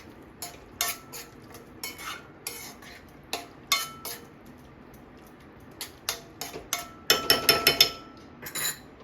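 A spoon clinks and scrapes against a pan while Amritsari street-style paneer bhurji is mixed with salt, in irregular close bursts of clatter that grow busier and louder near the end.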